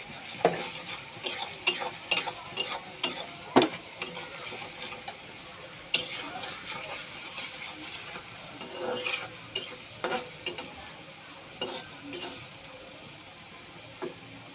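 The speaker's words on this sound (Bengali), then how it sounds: "ভালোভাবে মিক্সড করে নেব লবণ এবং পেঁয়াজটাকে" Sliced onions and salt are stirred in a frying pan, with repeated sharp scrapes and clinks of a spoon over a soft, steady sizzle and a close, uneven rhythm.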